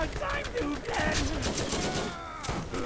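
A deployed turret in the game Borderlands fires rapid bursts of gunfire amid dense, busy game noise, continuous across the moment with brief pauses.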